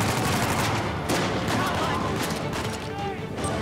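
Rapid gunfire bursts and explosions in the game Uncharted 4, loud and continuous, with a voice talking over the shooting.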